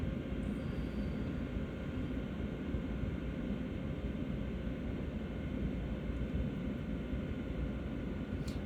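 Steady broadband rumble of a passing airplane in the Train Sim World video game on the Northeast Corridor route, a dense low drone holding evenly throughout with no talk.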